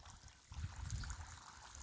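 Water trickles and flows through a drainage channel feeding fish ponds, a soft low gurgle that is faint and steady, with no talk.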